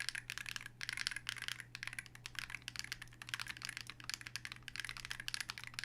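Rapid, continuous typing on a foamless mechanical keyboard with Electrotaiken switches: close, crisp clacks in a busy, uneven rhythm over a faint low hum, with no voices.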